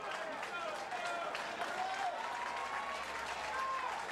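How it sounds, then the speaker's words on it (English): Crowd at a 2000 college baseball regional game in Lafayette applauding and cheering steadily, a broad wash of clapping with a commentator talking over it throughout. "And the crowd is certainly into this one now"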